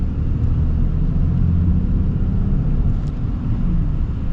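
A 2024 Ram 3500 Limited diesel truck pulls away gently through a turn, giving a loud, continuous low engine rumble with road noise and no talking.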